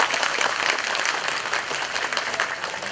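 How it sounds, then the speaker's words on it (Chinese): A steady wash of audience applause fills a kindergarten graduation ceremony, parents, children and teachers clapping continuously at a fairly even level throughout. "我们给我们的毕业生小朋友一个热烈的掌声"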